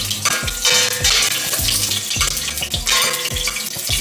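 Chiles fry in spattering hot oil, a loud, close sizzle with bursts of popping and rhythmic stirring scrapes against the pan.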